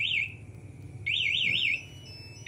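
A Yamaha MX King 2020 motorcycle's smart-key alarm buzzer sounds in warbling electronic bursts, one short then a longer one, loud and close, with a brief start of another at the end.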